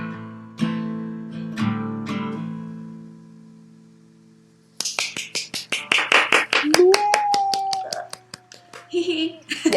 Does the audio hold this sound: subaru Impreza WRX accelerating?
no